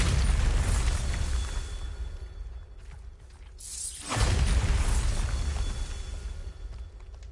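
Bombarda explosion spell cast in Hogwarts Legacy: a loud blast with a crackling, shattering burst that rises sharply midway through, amid rumbling mechanical game sounds, with no talking.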